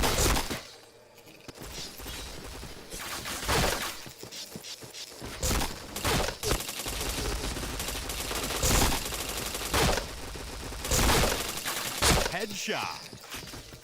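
Rapid gunfire from a shooting video game: bursts of automatic shots and single cracks repeat across the whole stretch, loud and close, with a faint voice now and then beneath the shooting.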